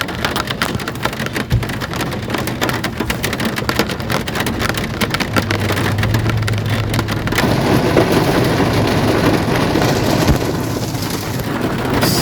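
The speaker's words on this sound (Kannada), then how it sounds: "ಇಲ್ಲಿ ಬಂದು ರೀಚ್ ಆಗುವ ಜೋರು ಮಳೆ ಹಾಗೆ ಬರ್ತಾ ಉಂಟು." Heavy rain in Mangaluru drums steadily on the roof and windows of a car, heard from inside as a loud, dense patter with occasional sharper drops and a low rumble.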